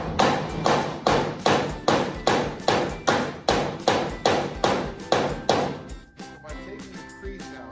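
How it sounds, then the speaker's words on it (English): A hammer strikes against a dolly to work a dent out of a rusted pickup truck bed, about a dozen sharp metallic blows in a steady, even rhythm, loud and close, before stopping near the end. "we're gonna see if we can't work this dent out"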